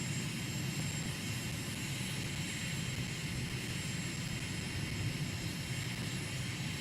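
Airplane in Microsoft Flight Simulator taxiing back after landing, a steady droning engine hum with broad rushing noise, continuous and even, with no voices.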